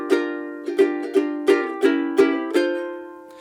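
Ukulele strumming chords in a steady rhythm, about eight bright strums with quick decays, close and clear with no talking.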